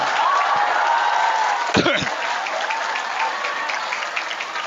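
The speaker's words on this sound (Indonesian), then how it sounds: "Nah, tepuk tangan, tepuk tangan." An audience at an Islamic boarding school Quran graduation ceremony applauds steadily throughout, a dense wash of clapping with a short knock or thump partway through.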